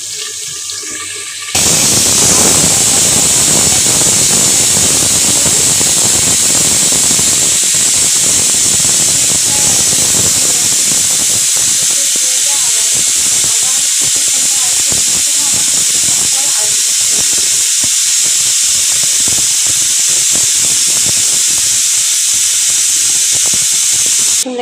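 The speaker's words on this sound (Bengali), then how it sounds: "দেখেন একটা শীষ দিয়ে বন্ধ হয়ে গেল, আবার কিছুক্ষণ পর আরেকটা শীষ দিবে।" Pressure cooker loudly hissing and venting steam while cooking kacchi biryani at home, a steady continuous jet of steam lasting many seconds after a brief quieter start.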